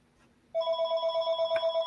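A telephone starts ringing after a quiet half second, a steady pulsing electronic trill that continues loud and close to the end, with no voices over it.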